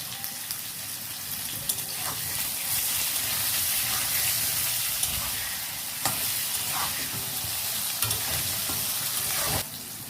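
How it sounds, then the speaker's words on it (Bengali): Potatoes sizzle steadily in a hot pan as they are stirred with salt, with a dense crackling fry and occasional scraping knocks of the utensil throughout. "এবার এই আলুগুলো হালকা একটু নাড়াচাড়া করে নেব, আর একটু নুন দেব, নুন দিয়ে ভাজবো।"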